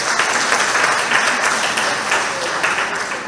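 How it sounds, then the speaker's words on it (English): A retirees' association meeting audience claps for an outgoing executive group, a dense, even round of applause filling the whole stretch at a steady level. "So let's give them a round of applause."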